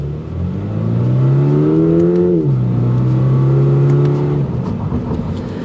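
A Toyota GR86 engine revs up through its exhaust, climbing to a loud rasping peak, dipping briefly, then holding a high steady rev before dropping off, with no talk over it.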